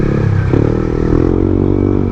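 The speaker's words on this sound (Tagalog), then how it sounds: "Ganito yung tunog ng Aerox natin ngayon" A Yamaha Aerox 155 scooter with a dual-tip exhaust runs close by, its engine holding a steady, throaty drone with a brief mechanical clatter near the start.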